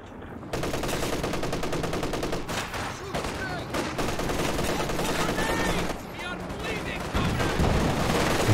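Machine gun fire in Company of Heroes 2, a World War II strategy game, rattles almost continuously as dense rapid bursts amid battlefield noise, with voices talking over it.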